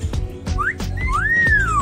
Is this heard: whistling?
yes